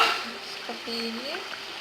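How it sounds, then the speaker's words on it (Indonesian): Tuna being stirred into sambal in a frying pan, a soft scraping stir over a steady sizzle, with brief voice-like tones partway through. "ikan sudah masuk, kita aduk-aduk"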